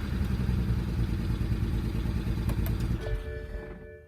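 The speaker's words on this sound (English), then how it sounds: "So the engine turns a bit better, but not quite there." A BMW 135i E82 with the N54 engine cranks on a first start, a loud, close, rapid mechanical chugging for about three seconds before it cuts out, leaving a fading hum.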